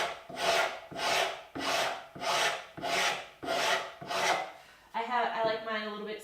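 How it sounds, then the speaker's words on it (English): A wood rasp files a wooden spokeshave body in long, even strokes, seven rhythmic scraping passes close up, followed by a brief change in tone at the end. "Remember to maximize efficiency by using the full length of your rasp."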